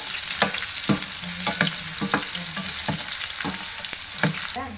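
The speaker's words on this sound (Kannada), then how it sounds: "ಇದು ಚೆನ್ನಾಗಿ ಫ್ರೈ ಮಾಡಿ, ಕೆಂಪಾಗಬೇಕಾಯ್ತಾ, ಅಷ್ಟು ಗಂಟೆ ಫ್ರೈ ಮಾಡಿ." Seasoning for mango pickle frying in a pan, a continuous bright sizzle broken by frequent rhythmic scrapes and taps of stirring, close up and with no talk.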